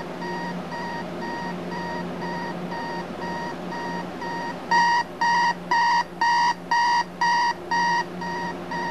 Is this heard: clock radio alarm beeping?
yes